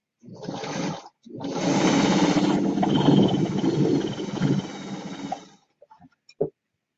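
A sewing machine stitching quilt blocks whirs in a short burst, stops briefly, then runs steadily for several seconds before halting with a few faint clicks.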